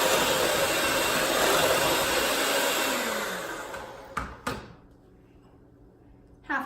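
An electric mixer beats cupcake batter for peanut-free ombre cupcakes, giving a steady, fairly loud whir for about four seconds before it cuts off, followed by a couple of brief knocks and a quiet pause.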